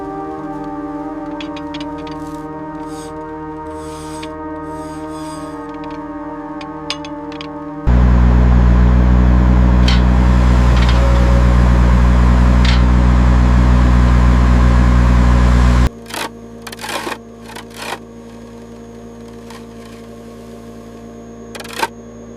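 Drilling rig boring an Arctic well into permafrost at minus 40 Celsius, a steady mechanical hum that jumps into a loud, heavy low rumble for several seconds, then drops back to a quieter drone with scattered clanks.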